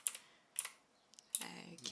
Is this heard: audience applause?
no